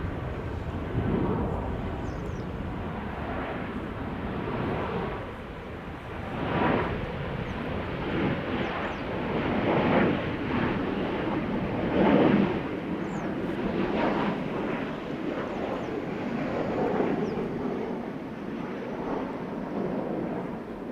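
A 24-year-old airliner at Schiphol Airport rumbles with a steady low engine roar that swells and recedes over about twenty seconds, heard from a distance amid wind buffeting the microphone.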